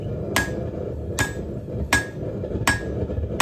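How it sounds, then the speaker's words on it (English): Hot chisel steel hammered on the edge of an anvil while forging a taper: four loud, ringing strikes about a second apart, with a faint metallic ring after each and steady background noise. "I'm going to use the edge of my anvil to make a taper"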